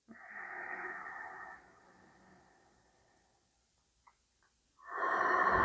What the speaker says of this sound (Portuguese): Mais uma vez, inspira profundamente.